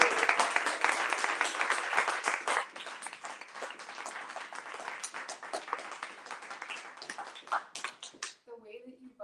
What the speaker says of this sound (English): Can we get a round of applause for Angel?